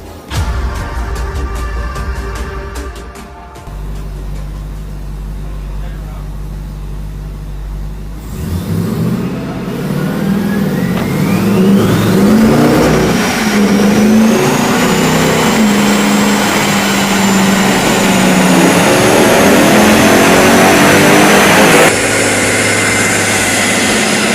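A Lexus GX engine runs on a dyno, starting as a deep low idle, then rising into a long steady climb in revs with a whining tone that holds high and loud, heard alone without talk.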